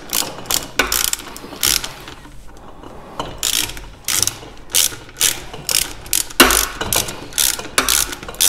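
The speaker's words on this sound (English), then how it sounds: "I'm going to finish taking out the bolt on the bottom" Ratchet wrench backing out the bottom bolt of a WP AER motorcycle fork during a fork seal job, heard as loud, close bursts of rapid clicking in short strokes with brief pauses between them.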